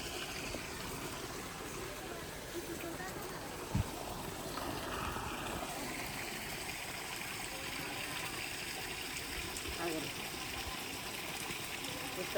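A spring at Chilakalagutta near Medaram pours water out from deep inside the rock, making a steady, close, continuous rush that stays even throughout, with faint voices mixed in beneath.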